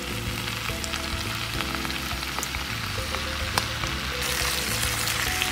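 Vegetables, spinach and zucchini, frying in green sauce in a pan, with a steady moderate sizzle and light stirring sounds, no talking.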